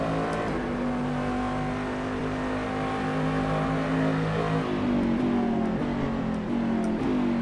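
A Cadillac Daytona Prototype International race car in the Assetto Corsa racing game, its engine droning loud and continuous with rising and shifting revs, slightly reverberant, and no talking.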